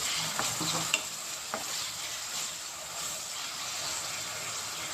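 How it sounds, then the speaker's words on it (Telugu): Drumstick pieces fry in hot oil and get stirred, a steady hiss of sizzling with a few light scrapes and taps of the spoon early on, fairly quiet and without speech. "నేను కట్ చేసుకున్న ములక్కాయలు కూడా వేసుకోవాలి ఇందులోనే బాగా ఆయిల్ ఆగనివ్వాలి"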